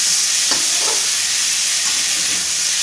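Potatoes frying with tomato in a pan, a loud steady sizzle throughout, with a few soft scrapes of stirring.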